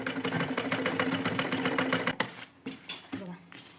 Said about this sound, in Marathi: हे बघा अशी शिलाई मारून घेते मी